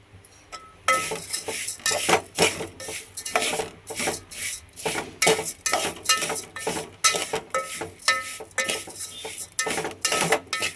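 Semiya vermicelli is stirred and roasted in a pan with a spoon, scraping and clinking against the metal in a steady rhythm of repeated strokes, close up and loud with no talking.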